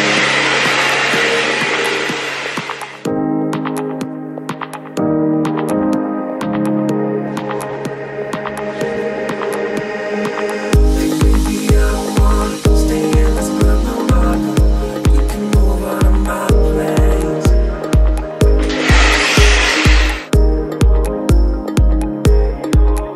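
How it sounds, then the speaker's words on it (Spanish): A salon-type hair dryer blows in two short, strong bursts of airy rushing noise, one at the start and one near the end, set against loud rhythmic background music. "De secador estoy utilizando este, que creo que es de peluquería"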